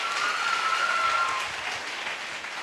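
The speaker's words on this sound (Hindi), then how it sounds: "मैं चाहूँगी एक बार सर के लिए ज़ोरदार तालियां होनी चाहिए" An audience at a large celebration event gives loud, dense applause. It holds steady, then eases slightly toward the end, with no talking over it.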